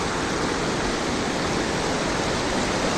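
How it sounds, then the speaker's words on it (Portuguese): A sunny waterfall in a natural park in Santana, Paraná, Brazil, gives a steady, loud, broadband rush of falling water that fills the whole clip without pause, with no voices heard. "Que show de cachoeira."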